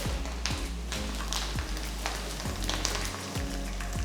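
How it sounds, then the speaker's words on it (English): Mustard seeds, red chillies, garlic cloves and curry leaves sizzle and spatter in hot oil. A soft, continuous crackle is broken by repeated sharp pops and taps about every half second, close by, with no voices. "Once the mustard seeds start splattering, add a few red chillies."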